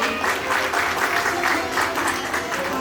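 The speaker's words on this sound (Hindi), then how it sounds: "एक बार दोनों परिवार का जोरदार तालियों से स्वागत करेंगे।" Enthusiastic applause at a wedding welcomes both families, many guests clapping steadily at close range with a slightly rhythmic pulse and no talk over it.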